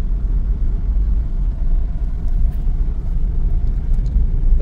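A 2024 Maruti Suzuki XL6 in its full-option Alpha Plus variant drives over a rough road, heard from inside as a constant low rumble of engine and tyre noise with small bumps and no speech.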